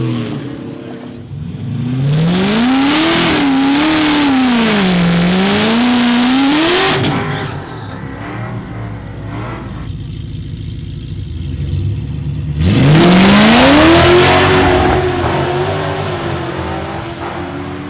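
Drag race car, the Silver Bullet OG, making a qualifying pass on a drag strip: a loud engine revs and climbs in pitch for several seconds, drops off, then roars up again, with no talk over it.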